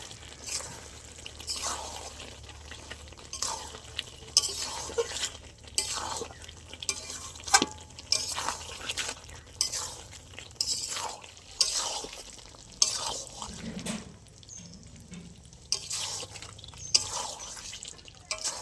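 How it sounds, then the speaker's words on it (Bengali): Chicken with ground spices being stirred and fried in a pan, with repeated scraping strokes of a spatula over a soft sizzle, close and rhythmic throughout. "আবারও মশলার সাথে ভালো করে এরকমভাবে নেড়ে নেড়ে কষে নেব।"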